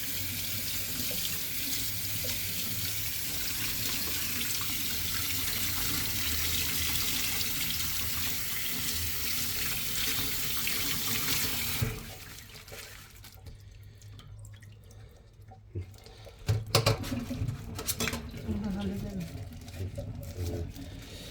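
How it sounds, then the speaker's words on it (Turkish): Cold tap water runs hard into a sink as fish are rinsed, a steady close rush for about twelve seconds, then stops, followed by drips, splashes and handling noises. "balığımızı şimdi yıkıyoruz. Bir soğuk suda buz gibi suda"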